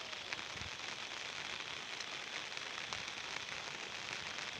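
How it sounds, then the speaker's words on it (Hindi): Heavy rain falls in a constant, dense hiss with scattered crackling drops, heard faintly at a distance with no voices. "वर्षा होचे बेसी वर्षा होचे"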